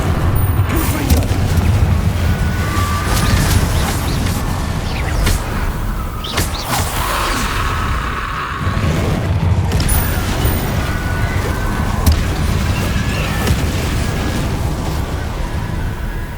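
Repeated fiery spell blasts from the Confringo curse in Hogwarts Legacy, heavy booming bursts rolling one after another over a dense, continuous roar of game action with no pauses.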